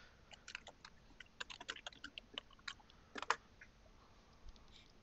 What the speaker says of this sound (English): we can hear him clacking keys.